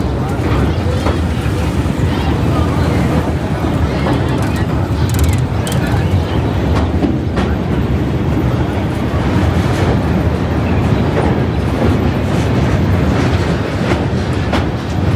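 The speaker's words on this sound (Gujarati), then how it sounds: "અહીંયા ટ્રેનનો અવાજ એવો આવતો હતો ને એટલા માટે મારે વોઇસ ઓવર કરવું પડે છે" Steady loud rumble and rattle of a train heard from inside the carriage on the way to Kanpur, with rhythmic clacking of wheels over rail joints running unbroken throughout.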